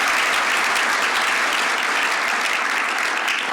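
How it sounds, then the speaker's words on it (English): Steady, dense audience applause at a Forty Under 40 awards ceremony, a room full of hands clapping continuously and evenly at close range with no talk over it. "Mary, you can clap for her."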